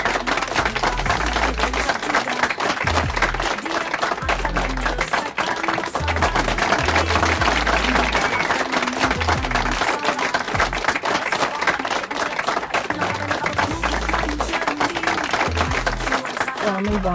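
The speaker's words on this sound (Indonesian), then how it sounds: "ramai banget ya tepuk tangan Pak." Applause from a large group: a dense, steady crackle of many hands clapping goes on for about seventeen seconds, with voices mixed in underneath.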